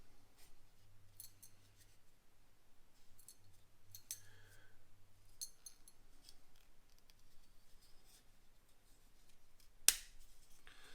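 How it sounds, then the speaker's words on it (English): A Terminator model's knee joint part snaps into place with one sharp, loud click near the end, after faint scattered handling ticks in a quiet room. "There you go, you heard that click."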